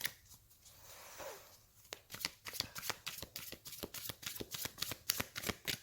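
A deck of tarot cards is shuffled and cut up close, with a soft riffle first and then a run of quick, crisp card slaps in an uneven rhythm.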